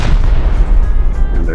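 Rocket impacts on a bunker in the video game Rust: a loud, dense burst of heavy explosive booms and rumble filling the whole moment, close and powerful, with a brief crackle at the end.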